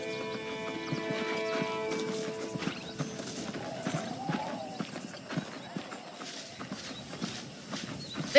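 Horse hooves clip-clopping at a walk with a brief whinny, ridden through a frontier ranch in the video game Red Dead Redemption, played on an emulated PS3, under steady music and voices talking.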